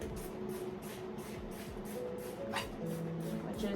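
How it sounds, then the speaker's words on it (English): A spray bottle filled with a vinegar and water solution is squeezed repeatedly in a steady rhythm of about ten short, soft hissing bursts, close by and fairly quiet, with faint household noise and birds chirping behind. "Gonna spray it with my vinegar water solution,"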